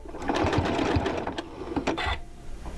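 A sewing machine stitching bias binding onto a quilt, a close continuous whirring run that slows and stutters toward the end as it nears a corner.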